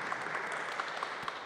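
An audience claps at a parish event in Barbezieux, a soft and fairly distant patter of many hands that keeps a steady texture with a few sharper claps, and no one speaks.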